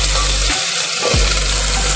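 Coarsely chopped onion goes into hot oil after minced garlic for a chicken stew, giving a steady close sizzle with a brief dip and a soft clatter as it drops in, no talking.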